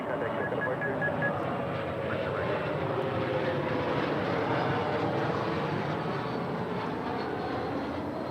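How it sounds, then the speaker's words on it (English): A CRJ 200 regional jet in Evo Blue livery arriving at LAX from Boise, heard as a steady, broad engine roar that holds evenly throughout, with no talk over it. "this is coming in from Boise. It's a CRJ 200 in the Evo Blue livery"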